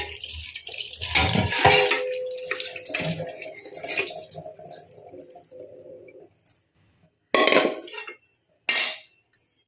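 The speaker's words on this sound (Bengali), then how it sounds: "কড়াইটা মেজে নিলাম।" Water runs into a wok while it is scrubbed and washed, with splashing and rinsing that go on for several seconds, then drop to near silence before two short, loud bursts of water return.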